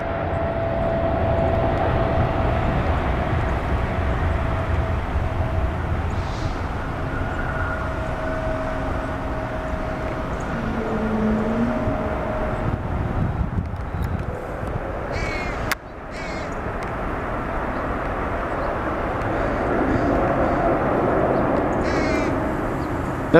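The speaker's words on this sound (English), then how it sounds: "There goes our last FedEx, our last cargo, and it's a 777 freighter off to Memphis." A FedEx Boeing 777 freighter takes off, a distant broad jet roar rumbling steadily, with crows cawing nearby and a brief sharp click partway through.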